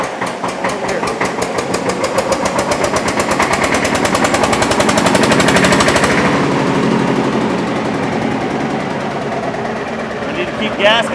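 Porsche Junior Diesel 108 tractor engine cranking and firing up, a loud, rapid chugging diesel knock that steadies into a fast rhythmic idle, close by with no one speaking.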